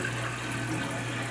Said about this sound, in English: you're going to flush this thing a good 3-4 times